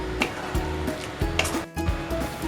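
Mushroom masala for mushroom do pyaza is stirred and scraped in a pan, with a steady sizzle of frying under several sharp, rhythmic utensil scrapes and knocks close by.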